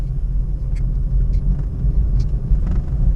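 Low road rumble from a worn wheel bearing on a 2011 Toyota Prius while driving, a steady droning roar heard from inside the car with no talk.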